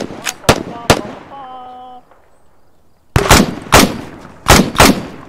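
An M2 machine gun fires in a military video game, sharp loud bursts in short groups, broken by a pause with a brief electronic beeping tone before more heavy rounds crack out.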